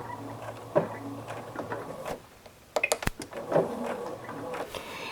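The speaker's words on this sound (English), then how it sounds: "So then I'm going to do a couple of stitches back and forth" A home sewing machine makes a few quick stitches back and forth, heard as short mechanical whirring bursts with brief pauses and a couple of clicks, close by.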